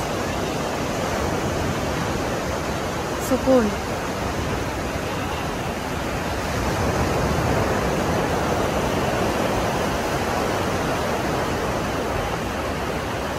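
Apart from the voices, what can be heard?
flowing water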